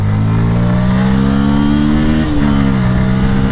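A Bajaj Pulsar N160 motorcycle accelerates on the road, its engine droning loud and close with a steady pitch climb, a brief dip at a gear shift, then pulling on.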